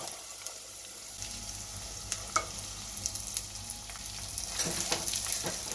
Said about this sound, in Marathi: यामध्ये आपण लगेच हा बारीक चिरलेला कांदा आहे तो घालूया